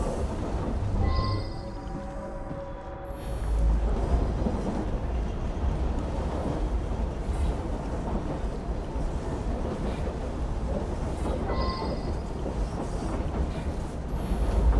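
A steam-era train rolls along its rails in the video game Assassin's Creed Syndicate, giving a steady, loud rumbling clatter that continues for the whole stretch with no talking.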